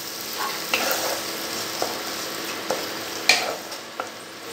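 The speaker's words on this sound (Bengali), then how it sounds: "দিয়ে এক মিনিট লো ফ্লেমে একটু সটে করে নেব।" Garlic and ginger paste sizzles steadily in a pan on a low flame while being stirred, with a continuous soft hiss and a few light scraping knocks of a spoon, close and without talk.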